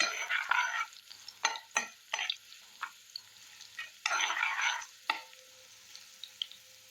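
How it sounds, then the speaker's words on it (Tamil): Garlic fries and gets stirred in a pan while cooking onion thokku, with bursts of scraping and sizzling coming in irregular strokes, close and moderately loud, with quiet gaps between them. "பூண்டுல இருக்க அந்த ஈரத்தன்மை இல்லாம நல்லா வதங்கணும்."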